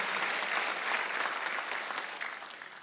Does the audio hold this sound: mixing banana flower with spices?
no